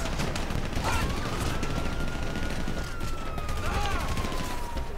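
Gunfire from the GTA V video game rattles in dense bursts during a police chase, with a siren wailing across the mix throughout.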